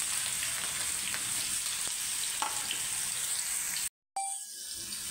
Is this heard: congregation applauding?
no